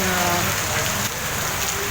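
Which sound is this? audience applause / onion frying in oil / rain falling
rain falling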